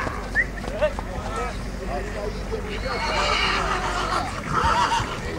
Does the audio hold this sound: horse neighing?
yes